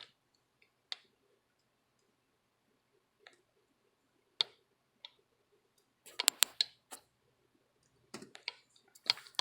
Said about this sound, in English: just press enter in the keyboard